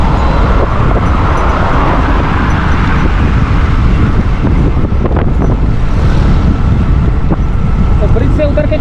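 Cool wind rushes past the microphone on a bridge near Korangi Causeway in Karachi, a loud, steady buffeting roar mixed with passing road traffic, with no talk over it.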